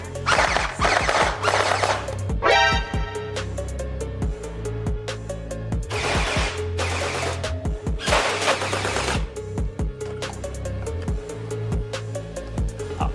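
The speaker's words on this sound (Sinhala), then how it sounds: "මේක ෂූට් කරනකොට ඔයගලන්ට මෙතන මේ ලිවර් එක බ්ලෝබැක් ෆන්ක්ෂන් එක බලා ගන්න පුළුවන්" Wei-Hui AK47 gel blaster with blowback action firing several rapid full-auto bursts, each a dense clattering rattle of shots separated by short pauses, loud and close with no talking.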